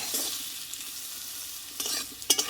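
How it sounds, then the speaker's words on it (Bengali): Boiled taro sautés in a hot pan, a close frying hiss broken by quick spatula scrapes and stirring strokes, a couple of sharper bursts near the end, with no voices. "তো কচুটা কিন্তু ভালোভাবে একটু কষিয়ে নিতে হবে"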